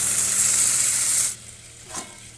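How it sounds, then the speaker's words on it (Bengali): Aloo matar curry frying in a pan as water is poured in: a loud, bright sizzling hiss that cuts off abruptly, followed by a brief soft splash. "এবারে তরকারিগুলো জলটা ঢেলে দেবো।"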